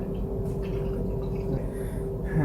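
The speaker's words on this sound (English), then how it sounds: "So I just pour some of the same water here, in here." Water poured into a film developing tank as a pre-soak before C-41 colour film development, a close, steady trickling and filling sound held at an even level, with a faint tonal ring.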